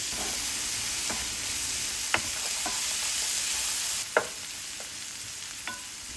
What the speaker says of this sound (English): Add chopped onion, saute for 5 to 7 minutes